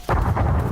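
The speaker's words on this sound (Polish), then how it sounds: "Wulkan wybuchł." A volcano erupts in the Roblox game Mad City, a sudden loud, rumbling blast that starts almost at once and roars on without a break for under a second.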